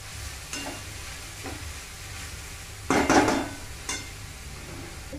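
Vegetables with a spoon of salt are stirred in a sizzling pan, soft scraping strokes over a low fry, with one louder, longer scrape near the middle.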